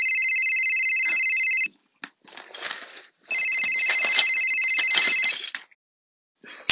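A telephone rings in a home in two long electronic trilling bursts, loud and close, separated by a short pause filled with faint rustling.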